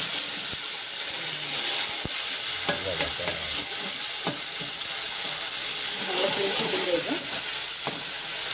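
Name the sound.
curry leaves sizzling in hot oil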